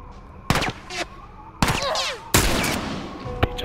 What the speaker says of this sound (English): Let me stop wasting my rifle ammo.